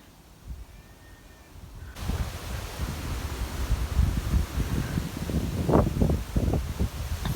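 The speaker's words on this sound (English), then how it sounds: "Very, very windy today." Strong wind buffets outdoors, rumbling low and gusting against the microphone, with leaves rustling throughout and growing louder after a quiet start.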